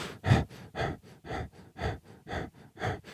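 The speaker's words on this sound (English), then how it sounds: "You're constantly breathing like this, stooped over." A person demonstrates shallow, stooped-over breathing: seven quick, rhythmic huffing breaths in a row, close and fairly soft, with no words spoken.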